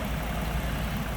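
Ford Mustang 3.7 liter V6 idles steadily under an open hood, a low, even hum heard close by with no other sounds.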